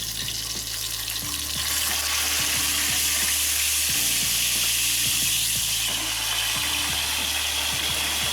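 Fish sizzles steadily in a hot pan of oil, a close, continuous crackle joined by repeated clicking, ratcheting knocks from a burner or utensil.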